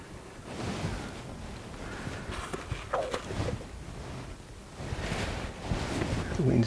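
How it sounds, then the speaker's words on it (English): Steady outdoor wind rushes and buffets the microphone beside a river with gum trees during plein air oil painting, a continuous broadband roar that swells in gusts, with no talk over it. "The wind's died out a bit now"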